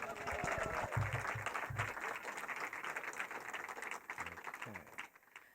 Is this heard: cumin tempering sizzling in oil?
no